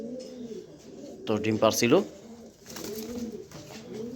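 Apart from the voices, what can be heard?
pair of pigeons cooing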